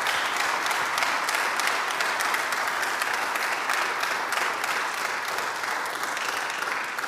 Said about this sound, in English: Can you all give them a round of applause for our panelists?